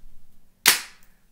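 A long-dormant paintball gun fires a single sharp, loud crack with a brief fading tail, standing alone after a quiet moment.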